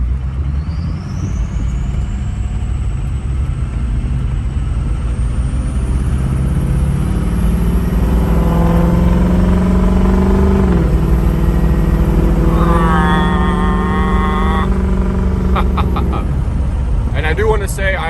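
A 6.0 Powerstroke diesel truck with a delete pipe accelerates under partial throttle, a loud continuous exhaust roar that climbs in pitch as the turbo whistle rises, then eases off with brief clattering toward the end.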